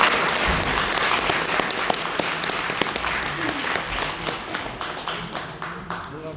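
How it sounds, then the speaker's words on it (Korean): Warm audience applause welcoming a journalist's media literacy lecture at the Gumi video media center, sustained crowd clapping with distinct individual claps that tapers slightly toward the end. "따뜻한 박수로 한번 시작해 주시기 바랍니다"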